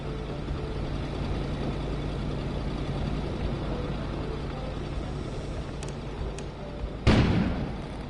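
A sudden loud boom of an explosion outside in a video game bursts near the end, after a long stretch of steady low rumbling ambience.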